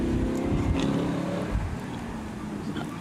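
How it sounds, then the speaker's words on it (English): A 2017 Chevrolet Camaro, car number 617 in the Cam C class, runs an autocross course at Anaheim Stadium, its engine roaring loud and steady as it revs, with a surge near the middle of the run. "we've got Aiden Castaneda, car number 617 in the 17 Chevy Camaro"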